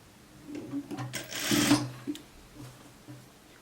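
A sewing machine stitches a collar onto a raglan-sleeve jacket in short bursts, with a louder sustained run in the middle and brief starts before and after, close and clear with no talking.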